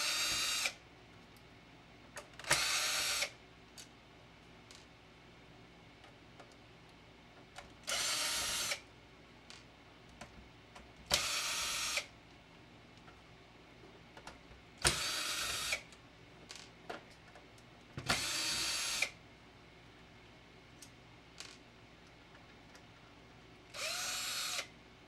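A power screwdriver backing screws out of a PlayStation 1 console: about seven short, high whirring bursts spaced a few seconds apart, with near-silence between them.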